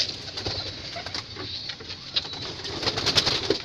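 Pigeons coo inside a loft, soft repeated throaty calls from several birds close by, with a light background hiss and no talking.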